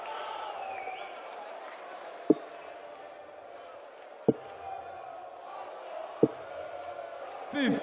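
A crowd at a darts semi-final match fills the arena with a steady, distant roar of murmuring and chanting, broken by three sharp thuds, while a commentator talks over it.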